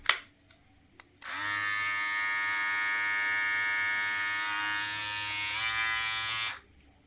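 A KENSEN S38 electric body groomer with its small cutter fitted switches on and runs as a steady, close, high-pitched electric buzz for about five seconds, then stops, after a few brief clicks beforehand.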